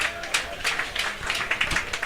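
Spectators at a Sutton United FA Cup first-round match against Slough Town clap as the home team leaves the pitch, giving light, scattered applause with crowd murmur throughout.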